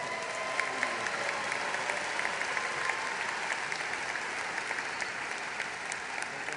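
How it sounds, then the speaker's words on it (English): A large audience at a Portland State University commencement ceremony claps steadily, a dense, even wash of applause throughout. "Let's give them all a round of applause."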